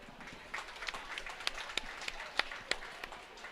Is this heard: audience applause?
yes